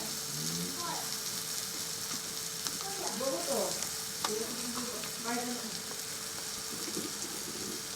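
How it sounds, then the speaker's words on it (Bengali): Flat bean seeds sizzle steadily in hot oil close by, with a constant frying hiss and occasional stirring scrapes, while a person talks over it. "দানাটা ততক্ষণ ভাজা হোক"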